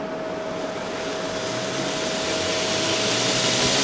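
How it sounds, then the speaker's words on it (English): Mini grinder with a flat disc working a piece of mild steel and throwing sparks, a steady loud high whine with a constant tone, rising slightly in loudness, alone without talk. "So a mini grinder with a flat disc or even a cutting disc,"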